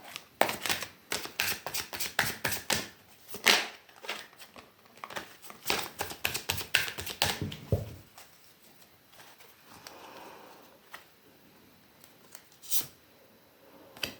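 Tarot cards are shuffled by hand in quick bursts of crisp riffling flutter, near and fairly quiet, easing into a few softer taps and slides.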